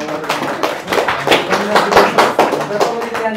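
An audience claps for the actor Saugat at a live event, the claps coming as a run of sharp, uneven hits while people talk over them.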